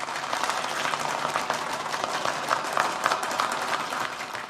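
A crowd claps through a moment of sustained applause at a Maheshwari Pragati Mandal annual function and prize distribution ceremony in Mumbai. The clapping is dense and even, with many hands close together and no break.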